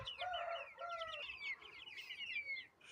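A fighting rooster clucks in a run of drawn-out, tonal calls, close and fairly loud, with a faint chirp of other birds in the background and no talking.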